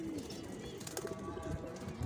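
A silver highflyer pigeon coos softly and intermittently at close range, its low murmuring calls overlapping with light background rustle and faint ambient noise.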